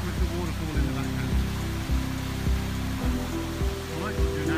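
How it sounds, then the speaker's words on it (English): Venford's small hidden waterfall rushes as a continuous broadband wash of water nearby, with regular soft low thumps recurring about every second beneath it. "The waterfall's just over there"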